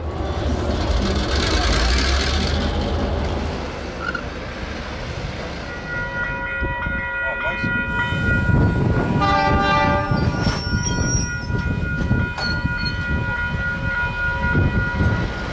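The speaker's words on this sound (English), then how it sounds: "Another day begins as DA's 1431 and 1410 are fired up for the" Two DA class diesel locomotives, 1431 and 1410, fire up at Oamaru on a South Island tour, their engines rumbling loud and steady with rising throb and a short horn or whistle note, while voices talk faintly in the background.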